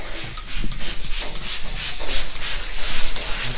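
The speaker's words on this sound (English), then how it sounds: "So that's why we're wet sanding." Sandpaper rubbing back and forth across a wet car body panel while prepping a Chevrolet Blazer for paint, a steady close scrubbing with rhythmic strokes and no talk.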